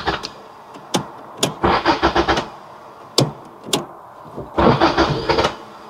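A carbureted Toyota Corolla 4WD, parked for 16 years, cranks over in several short, separate bursts and then one longer churning attempt, close and fairly loud.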